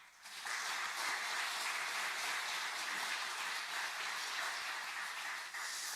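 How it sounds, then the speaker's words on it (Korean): Sustained applause from a church congregation at a special dawn worship service in Bucheon, a dense, steady clatter of many hands filling the room loudly and evenly for several seconds. "하나님께 영광의 박수 올려드리도록 하겠습니다."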